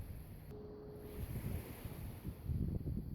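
Ocean surf rolling in at Doran Beach, Bodega Bay, a soft continuous wash with wind buffeting the microphone, waves swelling louder toward the end, no voices.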